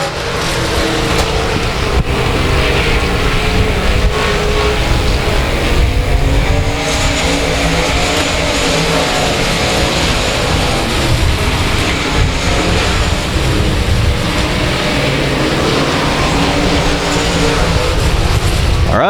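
Race cars roar around the South Texas Speedway oval, a loud, continuous engine drone that swells and fades as the pack passes close by.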